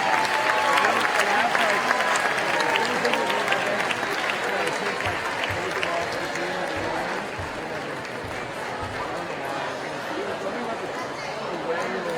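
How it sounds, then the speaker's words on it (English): A large audience at a 2017 awards ceremony applauds the management team, loud sustained clapping with crowd chatter and cheering mixed in, gradually thinning slightly toward the end. "So another big round of applause for your 2017 management team."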